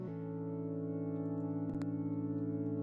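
Big dissonant chords from a sine wave synth in FL Studio, sustained and steady across the whole stretch, with a brief click or crackle near the end.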